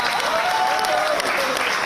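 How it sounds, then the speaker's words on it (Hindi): A crowd at a welcome ceremony for medal-winning athletes in Jaipur claps steadily, dense close applause sustained throughout with a voice briefly audible over it. "एक ताली आप अपने खुद के लिए भी बजाएं।"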